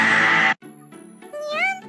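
A cat in the Professor Layton video game meows, close and loud: one drawn-out cry, a brief gap, then a rising, wavering meow.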